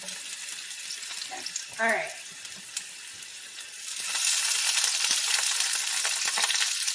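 Red onions sizzle in a greasy frying pan, a soft crackle that swells into a louder, steady hiss partway through, with a few brief words spoken early on.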